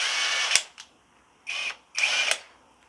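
Mensela impact wrench loosening a fastener, three short, close, loud hammering bursts with brief pauses between them, the first bursts ending in a sharp click.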